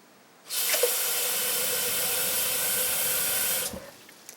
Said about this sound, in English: Step 2 is filling the kettle with about 2 cups of water.